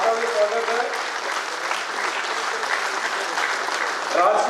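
An audience at a university regional workshop gives a round of applause, a steady, dense clapping from many hands that holds evenly throughout, with faint voices under it near the end.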